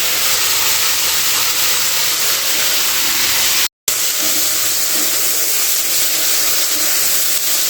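Salted, turmeric-coated pointed gourd (potol) frying in a pan gives a loud, steady sizzling hiss with a brief dropout partway through.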